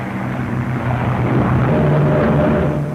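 A 1940s fighter plane's piston engine roars loud and continuous at full throttle during take-off, a dense, steady propeller drone with no voices.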